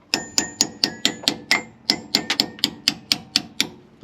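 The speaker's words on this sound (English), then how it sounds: "Best way I always find is chisels and punches, and just keep going and going" Repeated sharp metallic hammer strikes on a punch driving out old split pins from an ERF EC truck's suspension, about sixteen evenly paced ringing blows with a brief pause midway, close and loud.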